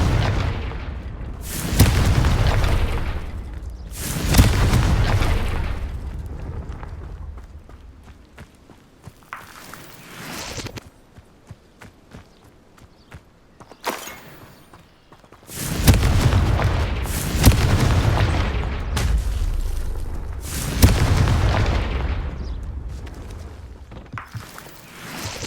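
Confringo blasting spells in Hogwarts Legacy explode in several loud, booming bursts spaced unevenly apart, with quieter scuffing movement and small pops filling the gaps between blasts.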